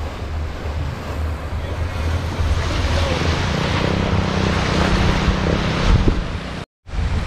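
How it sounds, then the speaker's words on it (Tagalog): Strong wind gusting against the microphone by a lake in Batangas, Philippines, with a steady rush of water lapping nearby, continuous and loud, cut by a brief dropout near the end. "Sarap dito, mahangin."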